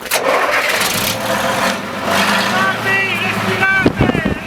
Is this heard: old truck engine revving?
yes